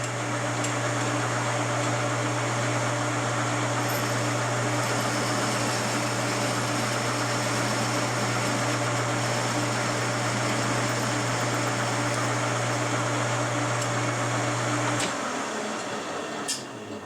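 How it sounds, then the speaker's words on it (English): A lathe shaving down the tops of 1/4 inch bolts, a loud continuous mechanical drone with a steady low hum and bright hiss that cuts off near the end. "I'm just shaving the top off these 1/4 bolts here. I'm shaving them down to 1/8 of an inch."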